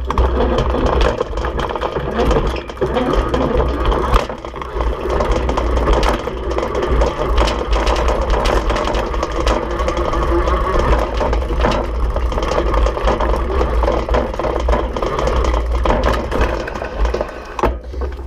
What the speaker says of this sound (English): I am hearing that chain bounce, possibly even bouncing into the chainstay, maybe the fender a little bit